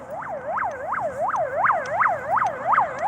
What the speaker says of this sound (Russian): Ой, как она, реанимация. Обычная скорая помощь.